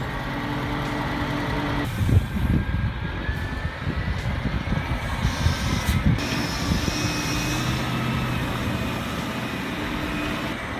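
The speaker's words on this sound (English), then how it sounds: "In the Carrara quarries, the Scania 8x8 G490 hauls a 32-ton payload through steep grades and loose stone." A Scania G490 8x8 truck carries a 32-ton payload over steep, loose stone grades in a Carrara marble quarry, its engine a loud, continuous low drone with rumbling, clattering bursts mid-way.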